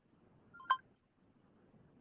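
On a trucking call-in radio show, a single short telephone tone sounds as a call is connected, faint line hiss before and after.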